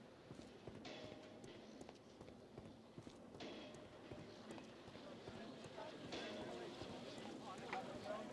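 Horse hooves clip-clop steadily on a street in a Victorian London setting in the Sherlock Holmes detective video game, a faint, continuous rhythmic clatter under ambient street noise.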